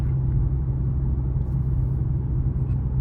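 Infiniti G25x with its VQ V6 engine, a steady low rumble and drone held at a constant level throughout, sounding like cruising or light throttle from inside the car, with no talking.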